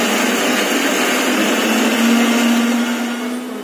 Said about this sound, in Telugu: మిక్సీ పట్టాలి, జ్యూస్ తయారవుతుంది.